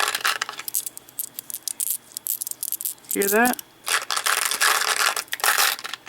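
Glass beads from a large mixed bead lot clink and rattle together in a bag for about half a second, a bright clattering burst set between stretches of someone talking.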